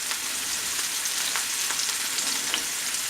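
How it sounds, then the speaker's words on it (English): Pork chops browning in a hot frying pan, a close, even sizzle with a dense high hiss and faint scattered crackles throughout, no voices. "We're just browning them to get a crust on them."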